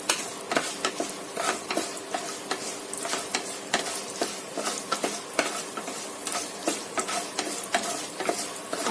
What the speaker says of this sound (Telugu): ఆవాలు మనం వేగనిద్దాం. పప్పులు కూడా మనకి